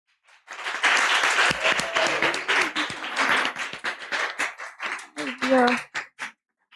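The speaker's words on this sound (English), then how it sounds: "A round of applause for him, please." Audience at a conference talk day breaking into sustained applause, many hands clapping in a dense wash that thins into scattered claps, with a voice speaking near the end.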